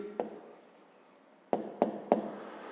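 Pen writing an answer by hand on paper for a grade-five maths exercise, a short scratch followed by three quick distinct taps or strokes, close and quiet with no talking.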